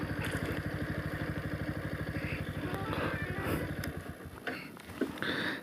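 A motorcycle engine idles with a steady, rapid putter. Clatter and faint background noise come and go near the end.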